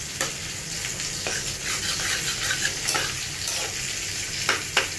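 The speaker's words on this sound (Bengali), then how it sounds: "আর পাশে দেখো মাথাটা ভেজে নিচ্ছি ইলিশ মাছের" Hilsa fish head frying in a pan, a dense sizzle with sharp spatters and scraping stir strokes, close and steady, with no voices.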